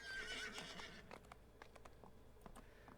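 A horse in a video game whinnies loudly at the start, then hooves patter and clop at moderate volume with some splashing motion, no talking.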